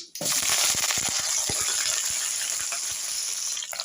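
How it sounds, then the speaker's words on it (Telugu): Onions and garlic hit hot oil already crackling with mustard seeds and curry leaves for a ridge gourd curry, producing a close, busy spatter of pops and sharp crackles over a steady sizzle. "ఎర్రగడ్డలు తెల్లగడ్డలు రెడీ చేసి పెట్టుకుని వేసేద్దాము"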